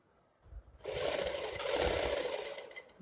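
A sewing machine stitches the side seam of a Punjabi suit, starting after a moment of quiet handling and then running steadily and close for a couple of seconds.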